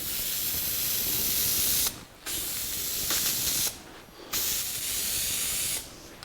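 A spray gun lays a primer coat onto a 1982 Jeep CJ7 tub, giving a loud, steady hiss that cuts off briefly twice between passes and then resumes, close up with no talking.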